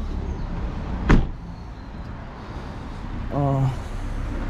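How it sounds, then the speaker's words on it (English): Audi A4 B6 with a 3.0 V6 engine, parked during a coolant temperature sensor repair: one sharp, solid thud of a car door shutting nearby, over steady outdoor background noise, then a brief tonal hum. "close the door."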